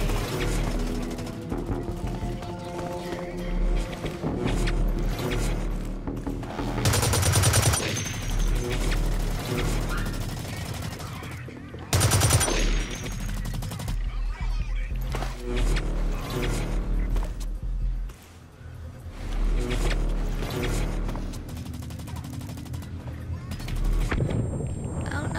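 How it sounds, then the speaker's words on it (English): Gunfire in a multiplayer video game: dense, continuous bursts of shots with several louder crashing impacts, layered over game sound and music for the whole stretch. "he started shooting."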